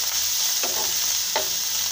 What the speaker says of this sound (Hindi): ये इसको तड़का भी बोल सकते हैं,